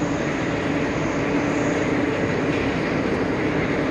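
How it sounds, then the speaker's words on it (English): Small Embraer jet landing on runway 22 Left at JFK airport, a steady broad roar of engine and air noise, fairly distant and constant throughout, with no voices. "Little Embraer landing on 22 left"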